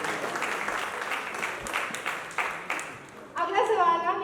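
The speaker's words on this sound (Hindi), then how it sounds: "एक बार जोरदार ताली हो जाए अय्यर जी के लिए यार।" Live studio audience at a Taarak Mehta Ka Ooltah Chashmah 17-year celebration breaks into applause for Iyer ji, a steady dense clapping that dips briefly before voices and music-like tones rise over it near the end.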